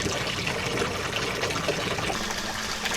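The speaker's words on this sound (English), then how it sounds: "Now we've got water coming out of the other one." Water pours out of a pipe from a bed in a greenhouse aquaponics system, a steady, close splashing trickle with no break. No one speaks.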